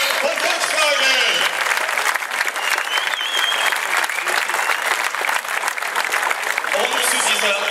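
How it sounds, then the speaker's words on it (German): Crowd at the ADAC Rally Deutschland 2015 award ceremony applauding the Volkswagen team, a continuous dense wash of clapping with some voices mixed in. "Also Applaus hier nochmal für die ganze Truppe von Volkswagen."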